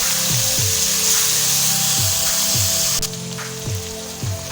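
Masala of crushed chillies, dry coriander and turmeric frying in a pot for khoya chole, a dense continuous sizzle with a repeating rhythmic scraping or stirring pattern underneath, close and loud.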